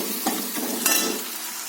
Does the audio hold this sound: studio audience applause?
no